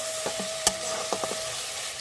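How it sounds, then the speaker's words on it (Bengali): Chili powder masala for a hilsa mustard-oil curry is stir-fried in a pan, giving a quiet sizzle with a few sharp spatula taps and scrapes. "আর দিয়ে দেবো লঙ্কার গুঁড়ো। দিয়ে আমি ভালো করে কষে নেব।"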